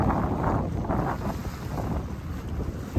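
Strong wind sweeping over a sailboat at sea off Central America, a steady loud roar with buffeting gusts and wind noise across the microphone, waves faintly underneath, no talk.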